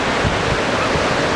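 Powerful ocean waves with strong currents break on the beach at Anglet, a loud, unbroken roar of surf mixed with wind noise, no talking.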